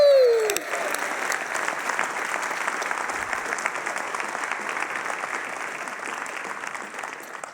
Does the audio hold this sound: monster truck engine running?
no